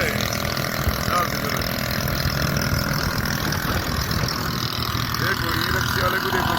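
A tractor pulling a loaded trolley runs its engine steadily, a continuous mid-pitched diesel drone and rattle throughout, with someone talking over it.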